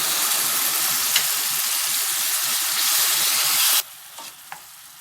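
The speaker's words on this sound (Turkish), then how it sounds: "Ve rendelemiş olduğum domatesi de ilave ediyorum." Grated tomato hits a hot pan of peas and sizzles loudly and steadily for several seconds, then drops suddenly to a faint hiss with a few small clinks.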